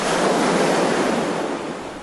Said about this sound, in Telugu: ఆ అలల శబ్దం